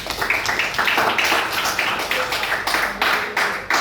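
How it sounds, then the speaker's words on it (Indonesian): Hands clap in a classroom: a group of students applauds together, giving a steady run of quick, close, overlapping claps for about four seconds with no pause. "Oke, kasih tepuk tangan."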